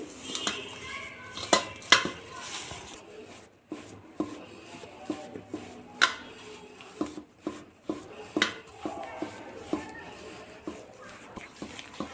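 Ghee and sugar are being mixed in a bowl for nankhatai dough, giving scattered light scraping and clinking taps of a utensil against the bowl in an irregular rhythm. The sounds are close and moderately quiet.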